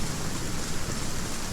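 Steady rain pours in the survival video game Aska, a dense, even hiss of falling water filling the scene without break and with no voices.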